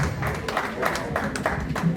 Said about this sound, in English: So clap for yourselves too